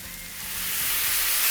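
Fresh chopped tomatoes for shakshuka hit a hot pan, a close bright hiss that swells louder over a second and a half.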